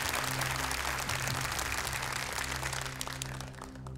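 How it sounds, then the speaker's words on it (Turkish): Studio audience at a Turkish Quran recitation contest applauds a contestant, a dense even clapping that stays loud for a few seconds and then fades away toward the end. "Alkışlarınız Salih Okudan için"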